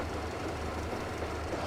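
A rail car engine runs in Metro Exodus, giving a steady low mechanical drone with faint rattling, continuous and fairly quiet, with no voices.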